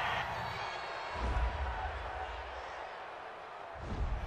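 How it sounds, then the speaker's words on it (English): A football stadium crowd rumbles and roars in protest after a roughing-the-passer penalty in a Jets versus Bengals game, a broad, distant wash of voices with heavier low thumps and swells. "this crowd does not like that call"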